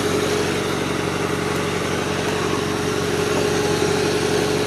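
Gravely 8163-T garden tractor engine running steadily while driven in third gear, high range, a continuous loud, close drone with a constant buzzing hum and no voices.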